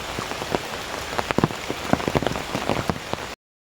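Rain pattering steadily on an umbrella and ground while walking toward a goddess temple, with dense close drops and scattered louder taps.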